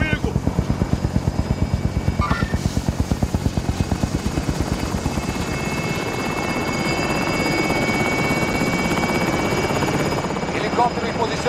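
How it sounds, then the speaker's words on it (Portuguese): A helicopter in the game Call of Duty: Modern Warfare thumps close by with rapid rotor pulses and engine whine, the beating smoothing into a steady roar midway, with brief bursts of other game sounds. "Helicóptero em posição. Pronto para o depósito."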